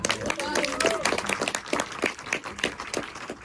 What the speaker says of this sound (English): let's get a round of applause there